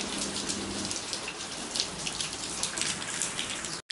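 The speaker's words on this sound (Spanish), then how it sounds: "Y mirad cómo llueve, señoras." Heavy rain pours down steadily outdoors, a dense close hiss of drops striking surfaces with scattered sharper patters, continuous and fairly loud until it cuts off abruptly near the end.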